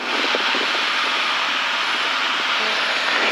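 A light aircraft on long final approach to runway 04 right with its first stage of flaps extending produces a loud, steady engine and airflow drone that fills the cabin without a break.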